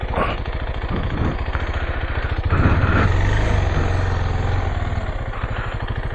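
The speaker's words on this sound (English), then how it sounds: "Time to turn around. Turn around this bike here." A KTM 390 Adventure motorcycle engine idles and revs while the bike turns around, a close, rough, pulsing single-cylinder throb that swells louder midway and then settles, with no voices.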